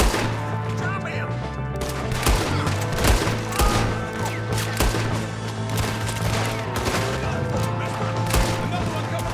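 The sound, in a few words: gunfire in Red Dead Redemption II video game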